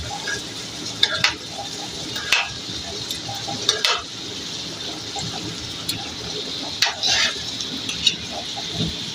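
Steady sizzling of meat frying in a pan, with occasional clinks and scrapes of a utensil against cookware.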